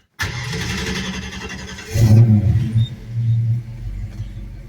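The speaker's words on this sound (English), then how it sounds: "it'll probably just sound like a noisy muscle car both times" A muscle car engine cranks and fires up, then a deep, rumbling exhaust through chambered mufflers revs loudly twice before settling into a throaty idle.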